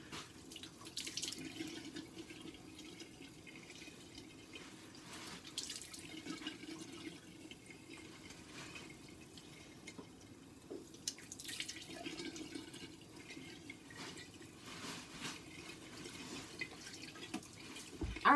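Faucet water running into a bathroom sink during face rinsing, a quiet continuous stream with intermittent splashes and drips, heard close up for a long stretch with no one speaking.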